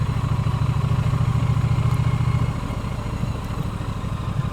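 A Triumph Bonneville motorcycle engine idles nearby with a steady, low, pulsing thrum that softens slightly partway through, alone without talk.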